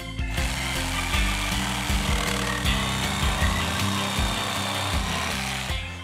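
A jigsaw blade cuts through wood pieces on a home improvement build, a steady loud buzzing rasp that runs without a break across the whole stretch, with no talk over it.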